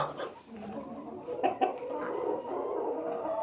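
Young roosters cluck and murmur close by, a busy overlapping chatter with a couple of sharper calls near the middle.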